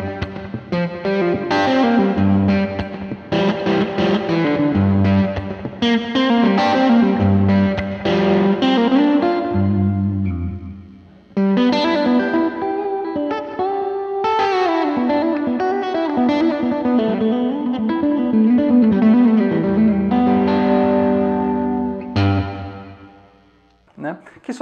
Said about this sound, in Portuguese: a gente tem o Indigo Reverb da VTR, que tem reverbs maravilhosos, e o meu favorito deles é o Plate